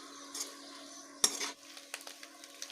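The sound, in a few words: stirring chopped fenugreek and garlic in cooking pan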